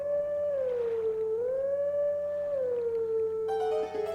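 Wolf Link howls a wavering, drawn-out tune to call the bird in the video game Zelda: Twilight Princess, a steady melodic howl carried over a low hum with no talking.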